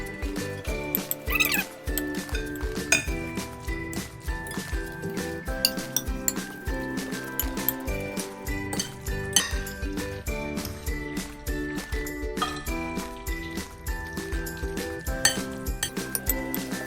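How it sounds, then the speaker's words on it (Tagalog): A utensil scrapes and clinks against a pan as sautéed ground meat with oyster sauce is stirred, in busy irregular strokes that run close and steady for a long stretch. "Ihahalo ko na po yung ating ginisang karne."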